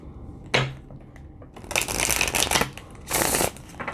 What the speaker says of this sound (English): We're going to shuffle this deck.